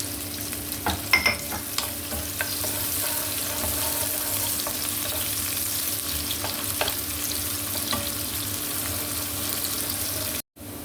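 Garlic and onion sauté together in a pan for a tofu and bean sprout dish, a steady close hiss of sizzling oil with scattered clicks and scrapes of stirring, cut off by a brief dropout near the end.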